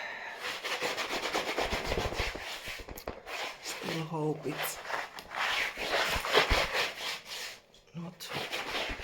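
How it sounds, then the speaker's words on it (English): Old acrylic paint on an artwork is sanded with steady scratchy rubbing strokes that carry on throughout, while a person talks quietly over the work. "dust, sanding dust all over the place"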